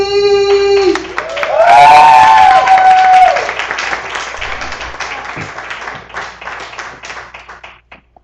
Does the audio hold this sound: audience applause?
yes